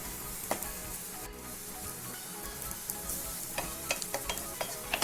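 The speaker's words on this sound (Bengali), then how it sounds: "পেঁয়াজ রসুন এবং লঙ্কা সব ভালোভাবে ভাজা হয়ে গেছে।" Onion, garlic and green chilli fry in a pan with a constant soft sizzle, punctuated by light scraping and tapping of a spatula, growing more frequent toward the end.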